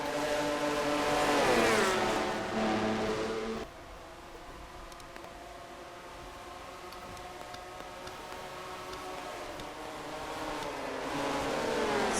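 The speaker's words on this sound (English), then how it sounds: "Here comes Gene Sanford to the low side in the 34 car in a Hungry Jack Buick" Race car engines roar in a NASCAR racing video game, a dense continuous drone with rising and falling pitch as cars pass, loud at first, then steadier and slightly quieter before building again.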